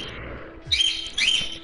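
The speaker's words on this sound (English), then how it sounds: "you can hear birds" Two bright, quick bursts of high bird chirps ring out close by, each a cluster of sharp tweets over a low, steady background hum.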